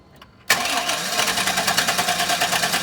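A Chevy engine with a new fuel pump and fuel filter cranks without starting. The starter kicks in abruptly and churns with a steady, loud, pulsing rhythm, close up, with no voices.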